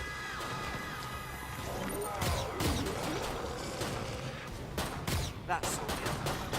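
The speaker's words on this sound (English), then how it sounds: "someone's getting shot already" Gunfire from the video game Killing Floor 2, played on PS4 in a Cranium Cracker challenge: scattered sharp shots and bursts over a continuous game-noise bed, with a flurry of cracks near the end.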